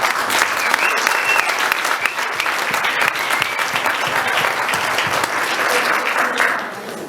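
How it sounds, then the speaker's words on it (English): A gathered crowd at a sports awards gala gives a long, loud round of applause, dense and continuous, fading slightly near the end. "I just want us to give a round of applause to all the players and clubs that are present"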